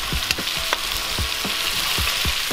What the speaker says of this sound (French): Du beurre et un filet d'huile pour pas que le beurre il brûle.